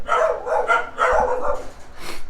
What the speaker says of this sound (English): My neighbor's dogs don't really like us yet. They're doing their job.